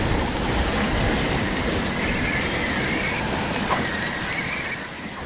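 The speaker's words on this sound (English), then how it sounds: "Especially with this bad weather, including rain and wind, and it looks like some type of fog" Steady rain and wind in a stormy, foggy Roblox zombie game, an even hiss that holds at a constant level throughout, a faint whistling tone now and then, and no voices.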